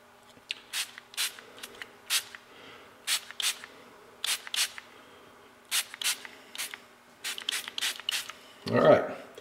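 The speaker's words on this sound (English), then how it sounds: "Let's hit another couple of sprays." Short bursts of household all-purpose machine oil being sprayed, about a dozen quick hissing puffs in an irregular rhythm, close and moderately loud, ending with a brief louder rustle.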